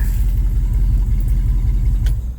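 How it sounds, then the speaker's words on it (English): A blue 1977 Ford Explorer truck with an old engine, started cold without a choke, idles close by with a deep, steady, pulsing rumble and slight unevenness, no talking over it. "this truck has been running probably a minute"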